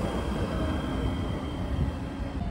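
A steady low rumble of a passing Baltimore Light RailLink tram, with rolling rail noise and a faint high whine, loud and continuous throughout.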